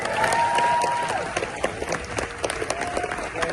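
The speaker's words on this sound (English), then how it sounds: "We can give you a round of applause." Audience applause for orchestra musicians who played on the original Jaws score, a dense burst of clapping from a crowd, loud and sustained throughout, with faint voices mixed in.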